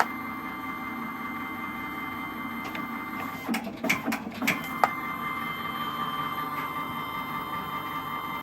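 A Magnum MC 35 semi-auto-feed creaser and perforator hums steadily while feeding and creasing paper sheets, with a cluster of sharp clunks and clicks in the middle as a sheet passes through.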